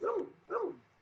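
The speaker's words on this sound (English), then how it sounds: "my dogs start barking now" Two quick barks from a dog indoors, soft and somewhat distant, spaced about half a second apart before silence.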